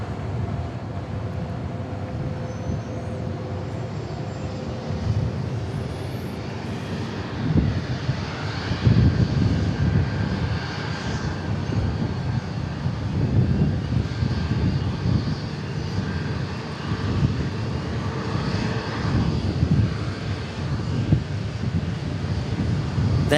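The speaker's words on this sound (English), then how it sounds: "That is Southwest 1323 from Tampa on a Max 8." A Southwest Airlines Boeing 737 Max 8 from Tampa rolls along the runway at Dallas Love Field, its jet engines a broad low roar that swells and rumbles heavily midway, heard from a distance with some wind buffeting.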